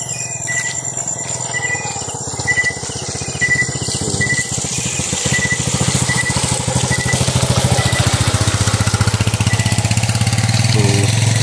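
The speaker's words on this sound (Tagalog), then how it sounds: "May dumaan ang motor mga kaidol." A motorcycle engine sounds close and loud, its rumble steadily building and holding as the bike passes nearby.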